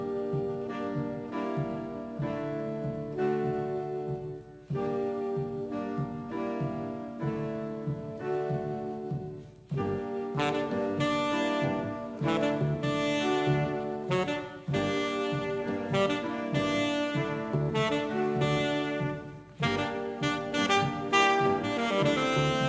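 A song from the film Pineapple Express played back, a steady melodic track with sustained harmonic tones and a regular beat, briefly thinning before fuller sections, continuous and fairly loud with no voices over it.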